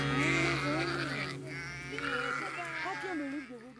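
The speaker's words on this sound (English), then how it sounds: "people were calling the sheep, and the sheep were paying no attention" Sheep bleating in a field, several wavering, nasal calls overlapping one another, fairly close and loud, with voices of people calling faintly mixed in.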